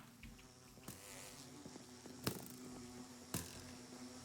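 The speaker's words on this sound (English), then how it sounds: "Oh, they hit the bees." Insect-like buzzing of bees in the Minecraft game, a steady hum at moderate distance broken by a few sharp clicks and hits.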